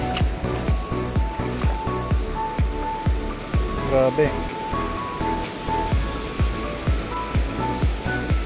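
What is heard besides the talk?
strong ocean waves crashing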